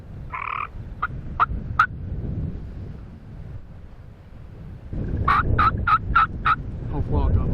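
A flock of wild turkeys gobbles on a windy spring hunting morning, with two bursts of rapid, rattling gobbles, the second longer and louder, set over a constant low rush of wind.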